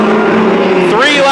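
4-cylinder mini stock race cars at Petaluma Speedway roar loudly close by, engine pitch rising sharply as they accelerate.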